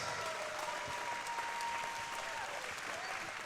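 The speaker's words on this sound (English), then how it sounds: "another round of applause for a hard-fought professional contest" A crowd claps and cheers steadily after a professional MMA bout at a Pinnacle FC11 event, a dense and continuous wash of applause filling the room.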